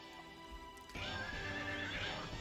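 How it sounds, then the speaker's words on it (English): A horse neighs in the video game Elminage, a whinnying call followed by clip-clopping hooves, close and clear over quiet game background sound. "sorry for all the neighing that's about to ensue."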